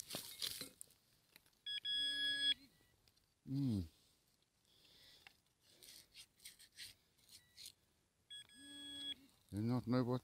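A Garrett Ace Apex metal detector sounds two bright electronic high-tone signals a few seconds apart, each a steady rising beep over field crunching and a voice talking between them.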